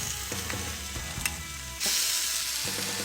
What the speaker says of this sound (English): That sizzle is how I know I'm going to get those gorgeous char marks.